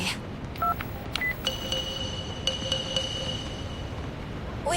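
Telephone keypad dialing tones, a series of short beeps followed by sustained steady tones, fairly loud over a noisy background with no talking.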